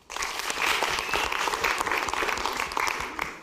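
An audience at a Kenyan university gathering breaks into dense, steady clapping that stays loud and close for the whole stretch, with a few scattered voices mixed in.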